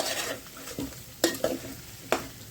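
Bitter gourd (karela) sautéing in oil on a lowered flame, a soft steady sizzle broken by several sharp scraping stirs of a spoon against the pan, close and alone.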